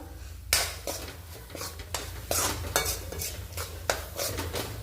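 A spoon stirs kitchen king masala through a frying vegetable mixture in a pan for veg Kolhapuri, with repeated scraping strokes and clinks of metal against the pan over a low sizzle, close and without speech.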